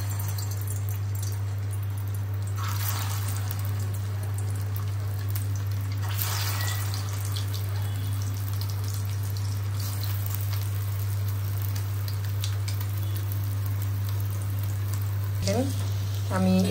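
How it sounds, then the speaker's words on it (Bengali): Shami kebabs frying one by one in hot oil in a kadai give a steady, close sizzle and crackle, with a constant low hum running underneath throughout. "তো এখন আমি এক এক করে শামি কাবাব এটার মধ্যে দিয়ে দিব"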